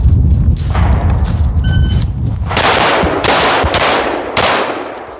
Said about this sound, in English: We'll do some more shooting,